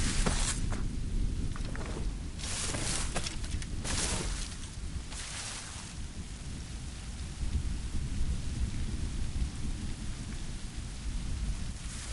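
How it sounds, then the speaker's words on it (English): Heavy rain pours steadily in an Assassin's Creed Rogue thunderstorm, with rumbling thunder and several sharp bursts near the start, a dense, continuous wash of sound with no voices. "storm's getting worse"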